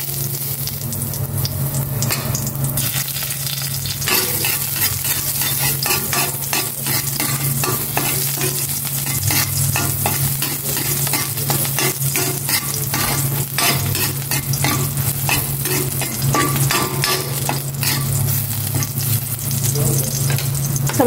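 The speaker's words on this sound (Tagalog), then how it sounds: "Igisa ko na itong bawang." Garlic sizzles loudly in a pan for a pechay dish, a dense continuous frying hiss close by, with constant scraping and stirring throughout.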